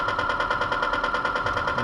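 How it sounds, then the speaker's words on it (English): A small electric motor inside a TongDe Churchill RC tank swings its machine gun, giving a close, rapid, evenly pulsing mechanical whir that runs steadily throughout. "There's a motor that makes it move."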